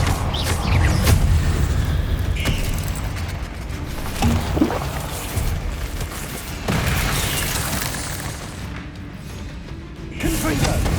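Repeated fiery spell blasts from the Confringo curse in Hogwarts Legacy, booming and crackling in bursts amid game effects and background music, with a voice shouting spell names.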